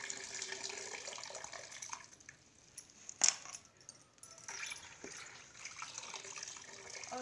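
Leafy saag greens being washed in water in a kadhai (wok): continuous close splashing and sloshing of water, with one sharper, louder splash near the middle.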